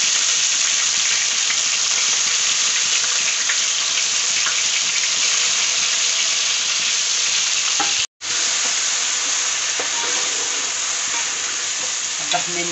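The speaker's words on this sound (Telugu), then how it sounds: "ఇప్పుడు మాడకుండా ముందు ఉల్లిపాయ పచ్చిమిరపకాయ వేసుకోండి" Onion and green chillies fry in hot oil with fenugreek for a Tamil Nadu fish curry, giving a loud, continuous close sizzle with stirring and a brief break partway through.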